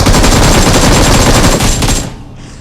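Rapid automatic gunfire rattles loud and continuous for about two seconds in the battle royale game BGMI, then cuts off sharply, leaving a faint tail.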